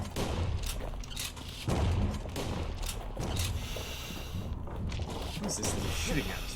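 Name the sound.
enemy shooting at the player in the video game Bastion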